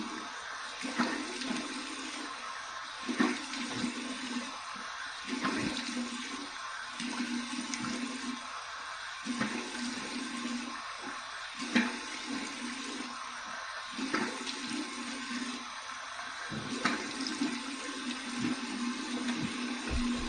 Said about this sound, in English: here's my cold water rinse